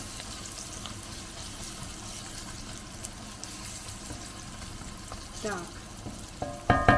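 Garlic and ginger fry in a pan with a soft, steady sizzle, then a brief word and some louder clatter and stirring near the end.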